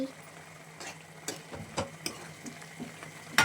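Chicken curry bubbling in a pot with a lid, a soft steady simmer broken by several sharp ticks and knocks of metal, ending in a louder clatter.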